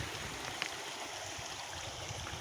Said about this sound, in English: So water is flowing from this side and it's starting rapids